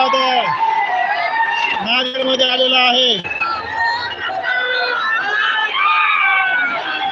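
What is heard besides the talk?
crowd cheering at Manoj Jarange Patil rally in Nanded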